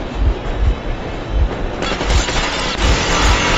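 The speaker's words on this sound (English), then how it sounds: "Mitralyozla ateş ediyor." Machine gun fire in the Metro Exodus game during a train hijacking, a loud, dense burst of rattling shots with rumbling low thumps and a rising roar, no talk.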